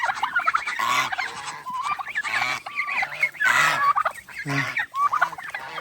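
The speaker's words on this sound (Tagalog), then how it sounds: "Yung mga pabo. Saka gansa." Turkeys gobble and geese honk close by in an overlapping, noisy chorus, with a brief spoken word in between.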